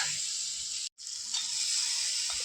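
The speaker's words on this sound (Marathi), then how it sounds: "तेल सुटले चांगलं आणि मटण टाकायला लागले आई त्याच्यामध्ये" Mutton pieces hit hot oil in a home kitchen pan and sizzle with a bright, steady hiss, broken by a momentary silence before the frying resumes, close and constant without talk.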